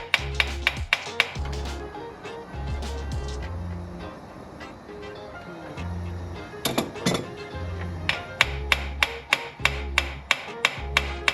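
Metal hammer blows tap a seized intake manifold bolt on an old Toyota pickup, sharp clinking strikes in uneven bursts with pauses, up close over a low droning hum.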